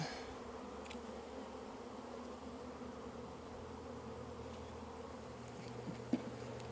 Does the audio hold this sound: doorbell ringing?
no